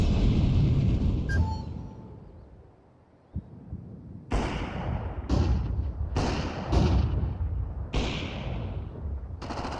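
A grenade detonates during a Counter-Strike match, a sharp broadband blast followed by a string of loud gunfire bursts and thuds over a steady game backdrop.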